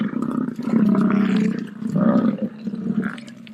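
A bison call: a deep, rough, harmonic groan that rises in two loud bursts and fades between them, heard close and alone with no talk.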